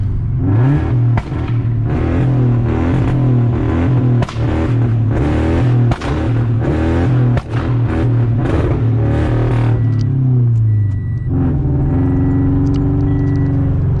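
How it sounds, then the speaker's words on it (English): A rolling two-step launch in a Scion FRS, with the engine bouncing off the limiter in a steady, rapid burst of loud revs and exhaust crackle, then tailing off toward the end. "That was rolling two-step"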